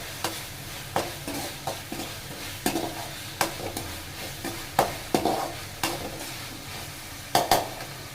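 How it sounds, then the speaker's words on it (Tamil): Tomatoes sautéing in a pan for a capsicum egg gravy, with a steady low sizzle and repeated scraping stirs of a spatula, close and moderately loud, no talking. "நல்லா வதங்கணும் தக்காளி."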